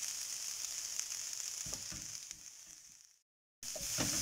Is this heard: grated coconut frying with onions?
yes